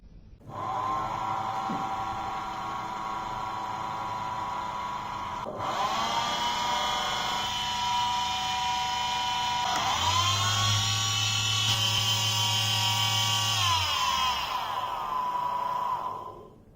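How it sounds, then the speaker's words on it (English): A 24 volt, 150 watt DC motor runs on a test bench, a high whining hum that stops and restarts, then climbs with a deeper tone added near the end, steady and close with no speech. "Third, DC motor testing. Motor 1, 24 volts, 150 watts."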